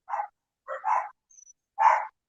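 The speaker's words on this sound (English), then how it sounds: "And there's my dogs on cue." Dogs barking indoors at home, four short sharp barks in quick succession with brief gaps, close and clear against silence.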